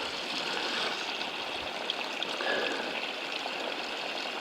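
Water gushes steadily in a continuous rushing stream from a VW Touareg's blocked drain, close by, with faint handling noises.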